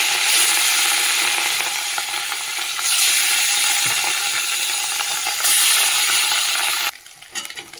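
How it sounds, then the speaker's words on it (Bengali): Fish fries in hot mustard oil with a loud, dense, continuous sizzle close up, swelling slightly a few times before dropping away near the end. "তেল তো গরম হয়ে গেছে, এই যে মাছ ছেড়ে দিচ্ছি,"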